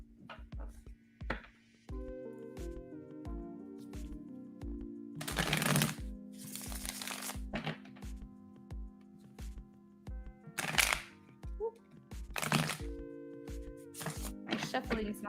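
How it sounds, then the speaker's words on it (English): Tarot cards are shuffled during a reading, a series of crisp riffling and slapping bursts under a steady backdrop of tonal music, with occasional sharper shuffles standing out. "My shuffling is not that good today."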